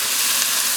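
Lean ground beef fries in a pan with a loud, steady close sizzle that barely changes over a brief moment, with no voices.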